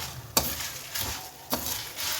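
Byadgi red chillies dry-roasting in a pan for a tamarind and potato curry, with a steady crackling sizzle and several louder scraping stir strokes at regular intervals, close and alone without voices.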